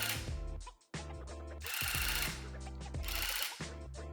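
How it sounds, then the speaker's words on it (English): A rug tufting gun punches yarn through backing cloth with a loud, close, rapid mechanical buzz, running in bursts separated by brief pauses. "The slower you can move with your gun, the better, especially for little areas like this."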